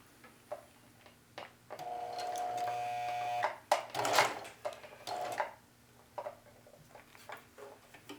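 A sewing machine runs a straight stitch along a jeans pocket: a short, even motor whir lasting about two seconds, then scattered clicks and handling knocks. Close and quiet.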